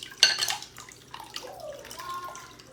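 Water is poured into a bowl in a home kitchen while making blueberry basil limeade, faint close trickling and splashing with a light clink of the dish near the start.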